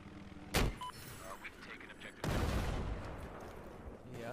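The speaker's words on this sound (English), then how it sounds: "Yeah, I shot that fucking helicopter with an RPG." An RPG launcher fires in Battlefield 4 gameplay: a sharp blast, then a second louder explosive boom that rumbles on, with a player's voice talking over the game sounds.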